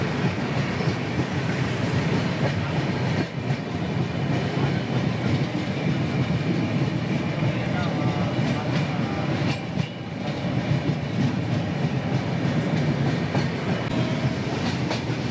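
The Darjeeling Mail train rumbles steadily along the rails toward New Farakka station, a continuous loud roar with rhythmic wheel clatter throughout, no voices.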